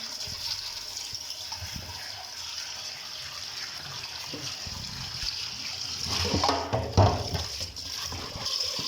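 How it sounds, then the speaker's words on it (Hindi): Water pours and splashes steadily while rinsing orange for murabba, with a gushing rush that grows louder near the end, faint voices underneath. "हम इससे पानी गिरा रहे हैं।"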